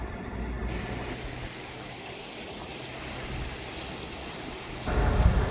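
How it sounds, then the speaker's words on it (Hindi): The Kunhar River, calm and free of rapids, flows past in a steady broadband rush of moving water heard at moderate distance, with a heavier low rumble of wind or handling surging near the end. "ये दरिया कुनार है जो बहुत मज़े से बह रहा है"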